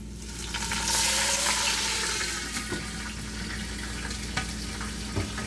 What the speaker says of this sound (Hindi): अब इसमें मैं थोड़ा सा पानी ऐड करके तो हम इसका कलर निकाल लेंगे